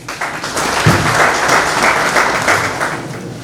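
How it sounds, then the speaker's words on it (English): Sustained applause from an audience at a South Sudanese book launch panel event, steady clapping filling the room for several seconds without talk. "And we applaud you for that."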